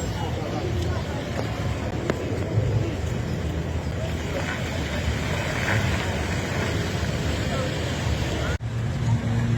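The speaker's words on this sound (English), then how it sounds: "there's about 2 lorries that's just arrived" Delivery lorries arrive at a construction site at the Thorpe Park Resort, with a steady, loud engine rumble that runs without a break, backed by distant background noise.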